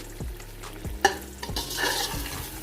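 Chicken leg pieces are stirred with a whole packet of pulao masala in a pot. A spoon scrapes and knocks in a few rough strokes over a soft sizzle, close and fairly loud.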